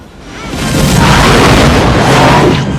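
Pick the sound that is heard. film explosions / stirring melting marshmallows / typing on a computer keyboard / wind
film explosions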